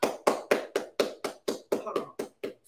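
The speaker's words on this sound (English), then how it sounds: "I need y'all to clap more than that, baby" Audience members clap in about eleven crisp, evenly spaced claps, close and fairly loud, with no talking over them.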